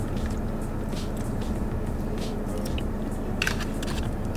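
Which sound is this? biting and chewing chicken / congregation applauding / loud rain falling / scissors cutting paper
biting and chewing chicken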